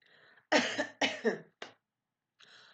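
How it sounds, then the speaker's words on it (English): A few sharp coughs in quick succession, then a short pause and a softer throat sound, close and clear against silence. "I've just coughed."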